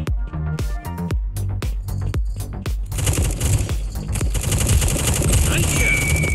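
In the mobile shooting game Red Dot: Front Line, gunfire starts as separate sharp single shots and then turns into a dense, continuous automatic burst with a high whine over it, and a voice is heard with it.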